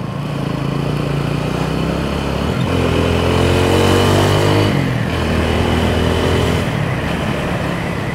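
Motorbikes and cars passing on a road in Batticaloa, engines droning loudly nearby with rising and falling pitch as vehicles go by one after another, no talk.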